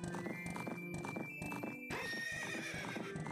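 A horse whinnies loudly over rhythmic hoofbeats clopping at a steady trot in Ocarina of Time, with occasional thuds mixed in.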